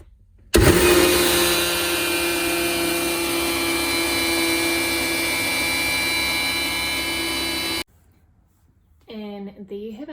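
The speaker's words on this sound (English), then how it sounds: "then I'm going to blend it and it will be like a creamy protein coffee" A blender whirs loudly and steadily for about seven seconds, blending chocolate protein powder with coffee and water, then cuts off abruptly; a voice speaks briefly afterward.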